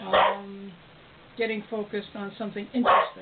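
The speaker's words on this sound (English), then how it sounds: "That's my dog." Dog barking indoors: a short bark at the start, then a quick series of yips and a final louder bark, close by, with a person talking in between.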